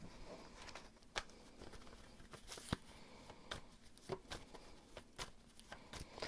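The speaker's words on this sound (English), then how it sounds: "I'm going to shuffle some of these archetype cards" A hand shuffles a deck of archetype cards up close, with scattered sharp snaps and taps over soft, continuous papery rustling at low volume.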